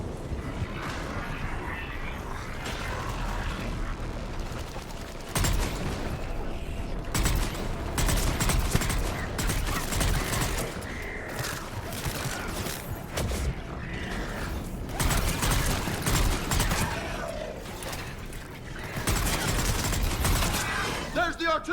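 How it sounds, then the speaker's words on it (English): Artillery fire in the video game Mass Effect, sounding as heavy repeated blasts and clattering bursts over a dense, loud battle din that persists throughout. "There's the artillery!"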